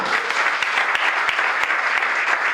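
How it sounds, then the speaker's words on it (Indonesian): A church congregation applauds loudly and continuously, a dense wash of many hands clapping close by with scattered sharper claps. "Berikan sorak-sorai buat Tuhan."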